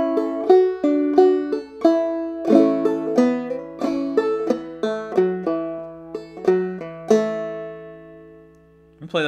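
Plucked clawhammer banjo notes play a bright, bouncy, syncopated melody of "Cripple Creek" with a rhythmic picking pattern, ending on a sustained ringing note.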